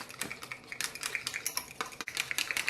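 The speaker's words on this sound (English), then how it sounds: "And I'm just going to mix this up." A spoon stirs a creamy buffalo chickpea mixture seasoned with black pepper in a bowl, making quick, faint, rhythmic scraping and clinking strokes close by. No one talks.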